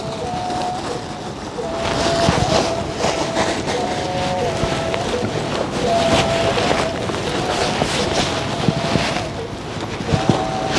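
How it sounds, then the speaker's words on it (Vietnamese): Wind blows at night in light rain near a shrine, buffeting the microphone with a rough, gusting roar that swells and eases throughout, while a faint thin tone comes and goes beneath it. "Trời hơi mưa á, biết lại gió nữa."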